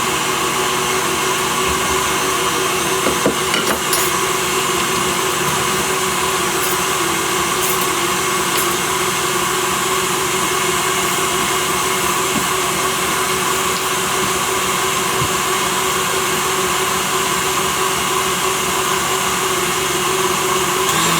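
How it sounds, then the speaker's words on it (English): An electric mixer whisking egg for French macarons toward stiff peaks, a loud, steady motor drone with a constant whine, running close and unbroken with faint occasional clicks of the whisk against the bowl. "we want to get to stiff peaks, so we're going to keep on whisking."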